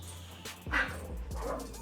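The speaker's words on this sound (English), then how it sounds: "Those are my dogs." Dogs bark in a few short, sharp yips close by, with low room noise between the barks.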